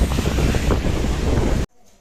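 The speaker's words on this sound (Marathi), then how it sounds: "हा, धबधबा आहे" A waterfall roars as a dense, steady wash of rushing water at an outdoor song-shoot location, loud and close for under two seconds before cutting off abruptly to near silence.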